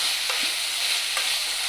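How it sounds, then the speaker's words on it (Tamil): Vegetables for Tamil-style vegetable rice sautéing and being stirred in a pan, a steady close hiss of frying with a few soft scrapes, no talking. "இதெல்லாம் நல்லா வதக்கிட்டு இது கூட நாம் 2 ஸ்பூன் தயிர் சேர்த்துக்கிறோம்."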